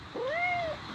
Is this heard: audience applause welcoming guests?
no